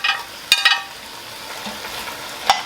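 Oxtail added back into a hot pot for Jamaican oxtails with butter beans sizzles steadily at close range, with a couple of quick scraping stirs early on and another near the end.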